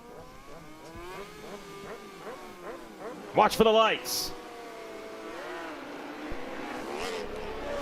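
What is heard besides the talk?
race motorcycle engines revving at start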